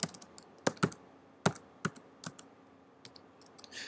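Sparse keystrokes on a computer keyboard, about a dozen separate clicks at an uneven pace, close and fairly quiet, with no voices.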